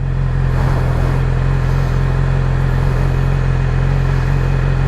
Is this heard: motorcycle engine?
yes